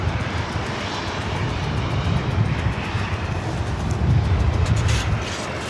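A NetJets Embraer Phenom 300 business jet, inbound from San Jose, lands at LAX behind an Alaska 737, a steady loud engine roar and rush close by that builds slightly near the end; no talking.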